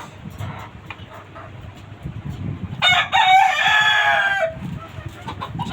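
Roosters in cages on a rooftop poultry farm crow once, a loud, close call lasting over a second that rises and falls, with clucking and farm noise before and after it.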